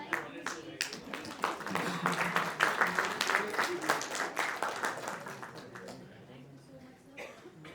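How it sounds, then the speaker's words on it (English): Applause from a tech conference audience, many hands clapping in a lively burst that swells and then tapers off, with voices mixed in beneath. "So please give a huge round of applause for Ravi sir."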